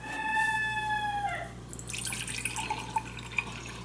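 Water pours and drips in a kitchen while eight cups are measured out for kielbasa bean soup, with a rising pour tone followed by a few scattered drips close by.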